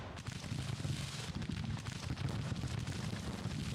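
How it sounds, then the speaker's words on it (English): A Civil War artillery battery fires in Grand Tactician: The Civil War, producing faint, distant booms that blend into a continuous low rumble of battle. "And the artillery battery will continue to fire at the enemy."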